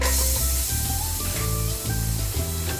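Garlic hits hot cooking oil in a pot for salmon sinigang with miso, producing a loud, close, spray-like hissing sizzle that holds steady throughout, with a tonal background beneath it.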